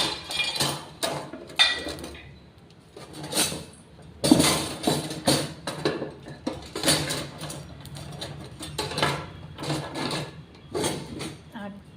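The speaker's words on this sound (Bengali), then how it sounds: "জায়ফল, খুবই শক্ত এটা দেখছি, থেতো করে দিয়ে দিলাম।" Hard nutmeg is crushed in a home kitchen while roast chicken is being prepared, giving a series of sharp clinking, knocking strikes in irregular bursts, with a person talking between and over the hits.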